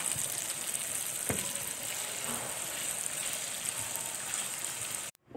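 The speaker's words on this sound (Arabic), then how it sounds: "احط الكبد والقوانص مع الفلفل ونقلب كل المقادير" Chicken liver and gizzards fry with peppers in a pan, a steady close sizzle with occasional stirring scrapes, ending abruptly.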